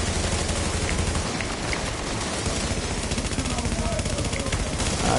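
Assault rifle gunfire in a video game shootout, continuous loud rattling bursts packed close together, with faint voices mixed under the shots.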